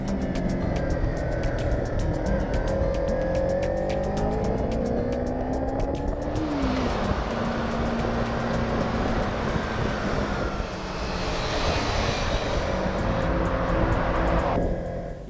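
A Kawasaki Z300 street fighter with a 296cc four-stroke twin-cylinder engine runs steadily while being ridden, a continuous loud engine drone with shifting pitch and rising whine, alone without talk.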